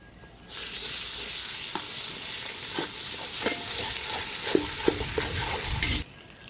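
Ginger garlic paste frying in a pan with onion and green chilli, a steady close sizzle starting abruptly and cutting off near the end, broken by several sharp stirring clinks and scrapes.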